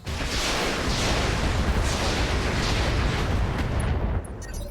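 Weapons on a Wolverine mech firing at an enemy mech in RogueTech, a continuous loud roar of rumbling blasts and explosions that runs without a break, then eases off near the end, with no talking.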